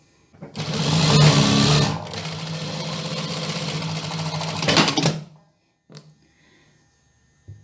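A sewing machine stitches a dress neckline, running loud and close in a continuous mechanical whir for about five seconds before stopping, followed by a couple of brief handling clicks.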